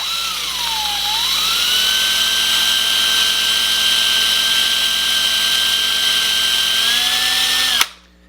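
Small power drill boring out the rivet of a Hot Wheels die-cast car, a loud close steady high whine that dips briefly in pitch early on, holds for several seconds, then cuts off abruptly.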